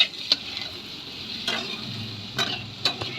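Onions and potatoes fry in a pan over high gas with a steady sizzle, broken by a few sharp stirring scrapes of a utensil against the pan, close and with no voices.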